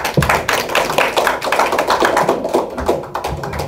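Audience applause after a forum presentation on the US election and Korean Peninsula security, a close, dense run of hand claps with an uneven rhythm, loud and without speech.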